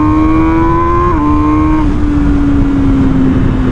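An MV Agusta motorcycle engine pulls hard uphill on a loud, steady climb, its tone rising, dipping briefly at a gear change, then settling into a strong sustained drone.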